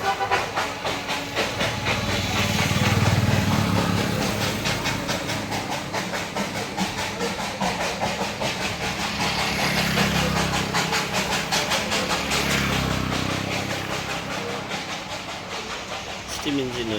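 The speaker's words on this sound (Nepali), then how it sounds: "स्टिम इन्जिन हो यो चाहिँ," A Darjeeling steam locomotive hisses and chuffs nearby, a broad continuous rush of steam swelling and easing over the whole stretch, with faint rail clatter and a voice speaking briefly.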